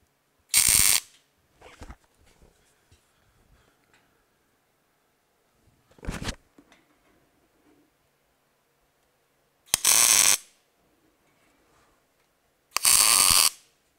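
Tack welding steel gussets onto a truck headache rack produces four short, crackling buzzes of arc welding, each about half a second long, separated by quiet gaps with faint handling clatter.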